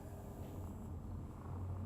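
A cat in the game Cyberpunk 2077 purrs softly in a short, low, continuous rumble with no voices over it.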